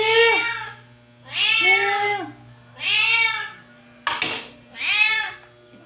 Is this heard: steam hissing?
no